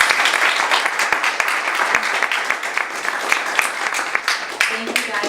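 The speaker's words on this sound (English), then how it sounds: "So, round of applause for our two panelists." Audience applause for two panelists at an infrastructure and innovation panel event, a dense, steady wash of clapping from a crowd that carries on throughout at a consistent level.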